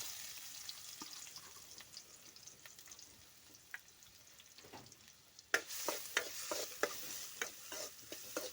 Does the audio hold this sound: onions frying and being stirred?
yes